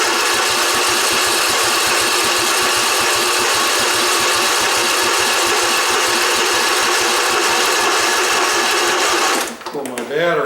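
A Husqvarna riding mower with a fault that keeps it from staying running roars loudly and steadily with a fast mechanical chatter, then cuts out abruptly near the end.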